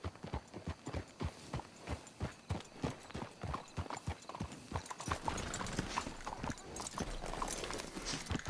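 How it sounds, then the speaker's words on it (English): Horses clip-clop in a steady, close rhythm of hoofbeats for about five seconds, then the hoofbeats fade under a denser, rougher background noise near the end. "Let's hitch the horses up ahead"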